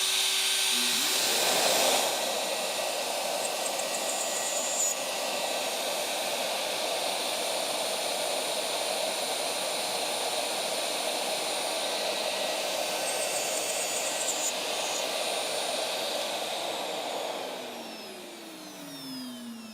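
Shaper Origin handheld CNC router running during an outside cut on a drawer box part: a loud, close, steady high-pitched whine and roar that spins up at the start and holds evenly before winding down near the end.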